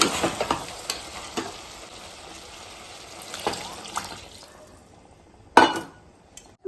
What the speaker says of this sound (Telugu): ఇప్పుడు చూడండి ఎసరేస్తాను నూనెల మధ్య